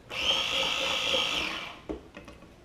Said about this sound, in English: So it's just grating the mess out of it, which is fantastic.